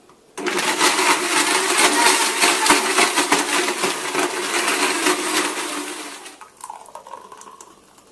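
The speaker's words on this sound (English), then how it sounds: "Now blend this on high for about 30 to 45 seconds" A blender runs on high, whirring a smoothie in a loud, dense, steady roar for about six seconds before winding down and fading to a lower hum.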